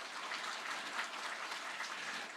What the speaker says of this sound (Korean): 우리 영광의 박수 하나님께 드리십시다.